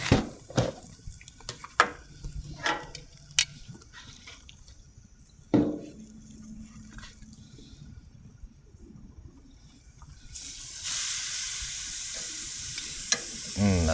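Beef strips sizzling on a grill for fajitas, a soft steady frying hiss with scattered stirring clatters and scraping, swelling into louder, brighter sizzling near the end.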